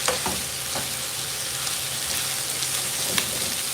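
Carrot, corn, celery and asparagus sizzle loudly in a pan for pansit canton, a dense continuous frying hiss with a few faint stirring clicks and no talking.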